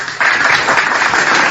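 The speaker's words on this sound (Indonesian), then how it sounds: "tepuk tangan lagi" Brief burst of audience applause during a religious sermon, a dense patter of many hands clapping together that starts abruptly and holds steady.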